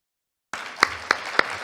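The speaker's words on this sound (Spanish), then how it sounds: "Este aplauso es para vos." A small audience applauds after a corporate talk on public affairs and food and beverage quality, starting abruptly with a soft patter and several sharper, distinct claps standing out near the microphone.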